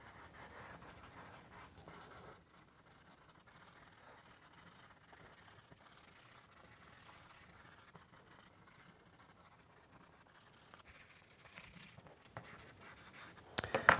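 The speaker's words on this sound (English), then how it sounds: "using the side of the pencil, because that's going to just keep things nice and quick" The side of a pastel pencil sweeps across paper in quick, loose strokes, giving a soft, continuous scratchy rubbing heard close and quiet throughout, with slightly louder strokes at the very end.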